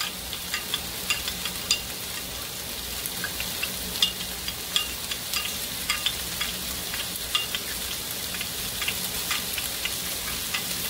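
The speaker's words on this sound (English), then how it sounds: "You mix your slurry again because the cornstarch has settled down already." Spoon scraping and clicking in a bowl while cornstarch slurry is stirred for pepper steak, steady quick taps over a soft, sizzle-like hiss throughout.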